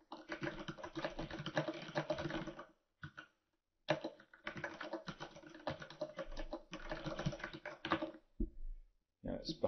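Rapid keystrokes clatter on a computer keyboard in dense bursts with short pauses between them, close and moderately quiet, as text is typed into a page layout.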